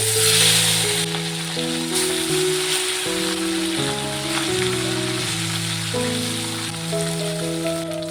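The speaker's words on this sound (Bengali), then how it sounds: "তেলটা গরম হয়ে গেছে মাছটাকে ভেজে নেব" Small morola fish frying in hot oil in a wok, a steady close sizzle running throughout beneath background music.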